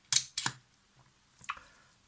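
A Zorki 6 rangefinder camera's shutter is cocked and released, heard close up as a pair of quick, sharp mechanical clicks followed by a softer click a second later, in an otherwise quiet room.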